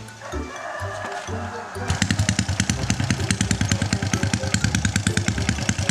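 A Honda Dream motorcycle pulls away and is ridden, its single-cylinder engine rising from a low idle into a loud, steady, pulsing putter, close by, with voices speaking in the background.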